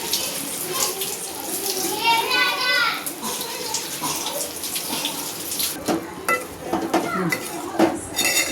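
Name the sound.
washing taro leaves in water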